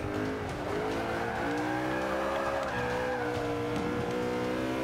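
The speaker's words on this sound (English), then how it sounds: "I, am trying to control the drift" Sustained tire squeal from a car drifting through a big turn in Forza Motorsport 5, a continuous wavering screech over steady engine drone, loud and close throughout.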